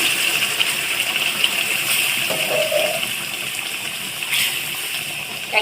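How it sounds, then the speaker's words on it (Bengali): Warm water poured from a medium mug into a cooking pot, a steady close gush running continuously for several seconds with no voices. "পরিমাণ মতো উষ্ণ গরম জল আমি দিয়ে দিচ্ছি"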